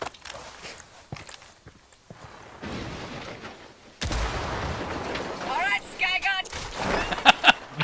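Video game gunfire with several sharp shots and booms among footstep-like thuds and clatter, getting busier and louder toward the end, with a voice partly heard under the action.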